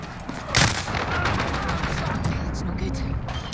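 A missile launches in Call of Duty Modern Warfare gameplay with a loud sudden blast and a sustained roaring rush, followed by crackling gunfire-like bursts and rumbling.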